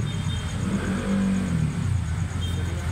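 Road traffic moves through Manggahan during a heavy typhoon downpour, a steady low rumble of car engines with a nearby vehicle humming and revving slightly, continuous and without speech.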